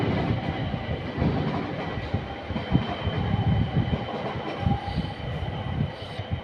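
A train rolls through Sankt Pölten station in Austria, a steady, loud rumble of wheels and rail noise with faint squeals and clatter holding throughout the clip.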